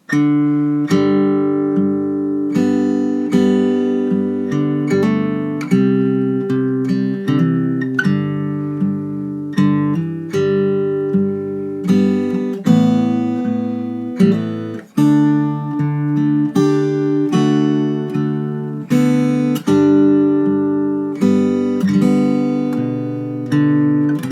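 Fingerpicked acoustic guitar plays a flowing tune on its own, individual plucked notes ringing over steady bass notes at a moderate pace.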